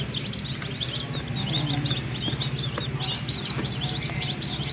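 A batch of newly hatched chicks cheeps in a rapid, high-pitched chorus, with many overlapping peeps running continuously at close range over a low background hum.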